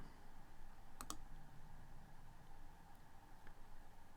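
A computer mouse clicking a skip button, two quick sharp clicks close together, distinct over a faint steady background hum, with a softer tick later.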